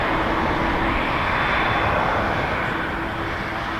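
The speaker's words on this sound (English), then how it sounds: "After this we have a Dreamliner 7879 just doing the nice turn over there off a hotel." Boeing 787-9 Dreamliner jet turning near Toronto Pearson airport: a continuous broad roar of jet engines, fairly loud and steady, with a faint tonal hum, heard at a distance with no talk.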